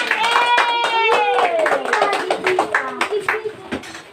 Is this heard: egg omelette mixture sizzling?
no